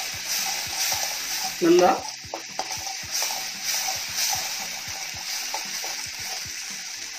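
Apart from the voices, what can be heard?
frying and stirring masala with Kashmiri chili powder for crab roast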